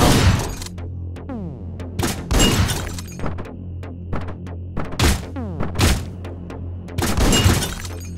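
Gunfire in the video game Hotline Miami 2: sharp, loud shots fire one after another in irregular bursts, some doubled, each with a short ringing tail over a low steady game hum.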